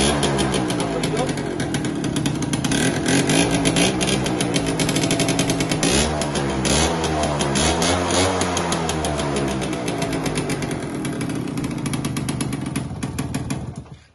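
A Yamaha Alfa motorcycle engine runs loudly and steadily up close, a rough, buzzing idle with slight revving throughout before it cuts off at the end.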